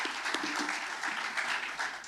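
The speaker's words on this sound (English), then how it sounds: "Please join me in a round of applause." An auditorium audience at an innovation and artificial intelligence forum gives a round of applause, dense overlapping clapping that holds steady and close before cutting off at the end.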